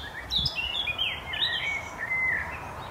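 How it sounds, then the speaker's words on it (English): Birds sing and chirp outdoors beyond a studio window during lockdown, a steady run of bright tweets and warbling phrases at moderate distance with low background rumble and no talking. "Great bird song."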